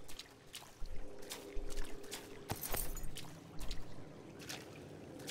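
Flowing water in a flooded underwater area of the video game Bioshock Infinite: Burial at Sea, a steady pouring wash running throughout with scattered splashy bursts and faint game clatter.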